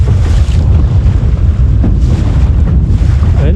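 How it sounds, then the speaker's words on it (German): Strong east wind gusts buffet across open water around a Laser Standard sailing dinghy, a dense roaring rumble with wave wash and sloshing, steady and loud throughout. "wir haben wunderschönen Wind aus Osten"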